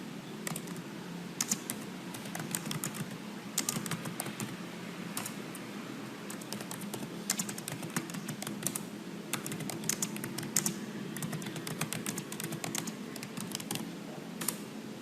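Steady typing on a computer keyboard while entering data into a spreadsheet, a quick run of soft key clicks with irregular rhythm and small pauses, close and fairly quiet over a faint room hum, no voices.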